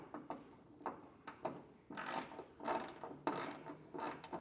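Ratchet clicking in short bursts while a ditch light mounting bracket is tightened down near the hood of a 2023 Toyota Tacoma, quiet and close, with no talking.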